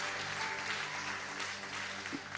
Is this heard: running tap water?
no